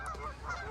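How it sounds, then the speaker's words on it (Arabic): Geese honk during a bird hunt at dusk as flocks fly in, a short burst of nasal calls close by and moderately loud. "والأسراب مثل ما قاعد تشوفون قامت تجي من كل مكان"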